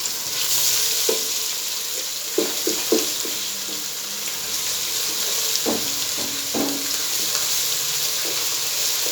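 A continuous hiss of ginger garlic paste frying with onions in a pan, with occasional scraping clinks as the mixture is stirred.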